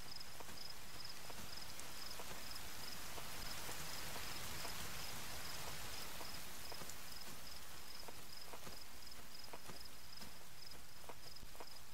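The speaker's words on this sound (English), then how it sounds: "here comes the rain" Steady broadband hiss of rain falling in The Forest survival video game, continuous and fairly loud across the whole stretch, with scattered faint ticks and taps mixed in and no talking.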